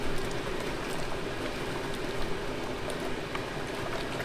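Beef chilli bubbles and blips steadily inside a Ninja Foodi multicooker, a dense, even simmering patter with small pops scattered throughout and no talking.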